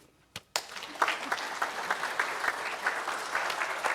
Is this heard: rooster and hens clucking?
no